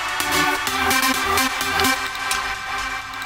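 Uplifting trance synth lead made with the Hypersia synth, playing a loud, bright, rhythmic pattern of stacked harmonic notes with sharp repeated onsets over a dense full electronic mix, with no voices.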